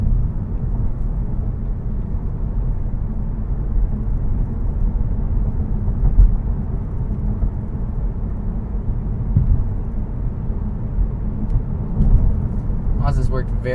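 A 2019 Mazda3 Premium accelerates steadily out of a corner, its engine and road noise forming a smooth, continuous low rumble heard from inside the cabin, with no talk over it.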